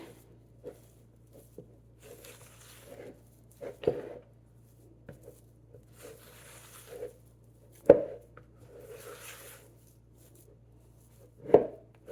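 One-to-one flour dough is mixed by hand, giving soft, sparse squishing and scraping sounds with a few sharper knocks against the bowl, quiet and irregular over a faint hum, with no talking.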